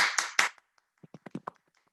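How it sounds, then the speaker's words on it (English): A few participants in an online open mic clap over a video call, heard as several sharp loud claps at first, then a thin scattering of fainter, uneven claps trailing off. "please unmute and clap"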